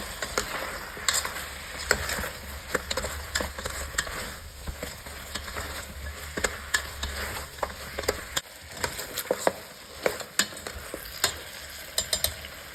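Pork ribs and shiitake mushrooms with seasonings stir-fried in a pan, steady sizzling under repeated scraping and clinking of a spatula, close and continuous.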